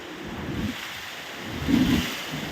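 Storm wind buffets the microphone near the sea, with low, rolling surges of waves swelling and fading in two heavy gusts against a constant roar.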